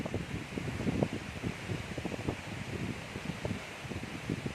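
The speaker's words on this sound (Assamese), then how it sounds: "কি বতাহ কি পানীৰ চাউণ্ড" Steady roar of rushing water from the Phe Phe waterfall mixed with gusting wind, broadband and continuous, with scattered low rumbling bursts throughout.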